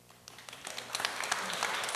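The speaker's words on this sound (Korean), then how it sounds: "큰 박수 또 부탁드리겠습니다." An audience applauds after a youth presentation at a citizens' creative culture camp, scattered claps building into a fuller, moderately distant round that grows slightly louder toward the end.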